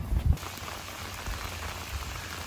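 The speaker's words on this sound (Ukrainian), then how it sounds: "який дощ рясний почався з бульками" Heavy rain falls on water during carp fishing near Vancouver, making a dense, steady hiss of drops with a few low thumps near the start, close and continuous, with no talking.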